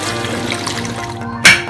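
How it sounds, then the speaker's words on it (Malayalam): Water poured into a cooking pan to start chicken stock for a Kabuli chicken pulao, a steady splashing pour throughout, ending with a brief louder splash near the close. "ഇനി നമ്മൾ വെള്ളം ഒഴിച്ചിട്ട് സ്റ്റോക്ക് ഉണ്ടാക്കണം"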